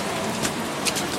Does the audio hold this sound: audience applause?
no